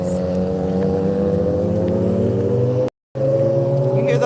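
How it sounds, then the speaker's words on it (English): Motorcycles passing on a road during an outdoor walk, a loud, sustained engine drone with shifting pitch that fills the scene and cuts out briefly near the end before resuming. "You hear those motorcycles?"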